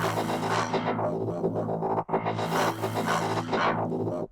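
A droning, buzzy synth didgeridoo-style bass made in the Vital synth for drum and bass, with a rapid fluttering wobble, played in two sustained swells that open up brightly and fade.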